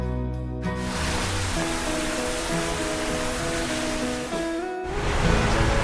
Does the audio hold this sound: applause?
no